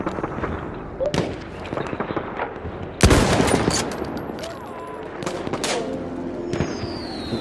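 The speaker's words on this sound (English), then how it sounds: "That's an enemy machine gun!" An enemy machine gun rattles in Battlefield 1, with rapid bursts and sharp cracks of gunfire, a loud blast near the middle, and players talking over the fighting.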